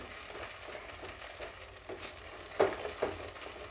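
Masala for a paneer curry made without onion or garlic fries in oil while being stirred, a soft steady sizzle broken by a couple of sharper spoon scrapes near the end, with no voices.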